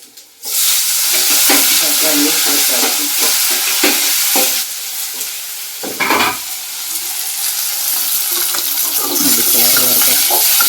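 Tomatoes fry and sizzle in a hot pan while a utensil stirs and scrapes them in bursts, a steady loud sizzle filling the whole stretch.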